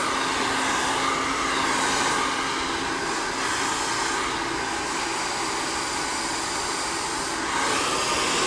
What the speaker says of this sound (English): The nice thing about this dryer